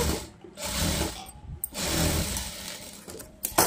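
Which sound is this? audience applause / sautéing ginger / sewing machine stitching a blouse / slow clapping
sewing machine stitching a blouse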